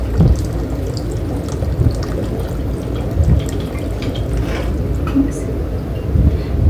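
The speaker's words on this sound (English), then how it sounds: "then I'll pour the excess off of it" Excess water is poured off soaked sphagnum moss, a steady splashing trickle with scattered drips running throughout, close and moderately loud.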